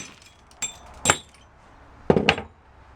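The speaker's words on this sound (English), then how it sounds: "I'm going to break open that jar and see what's inside" A hammer strikes a glass jar to break it open, giving four sharp clinking impacts in two pairs, the last pair loudest and close, with quiet pauses between.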